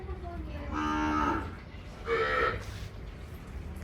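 Two drawn-out moos from a Kankrej cow, one after another with a short pause between, close and clear over a low background rumble.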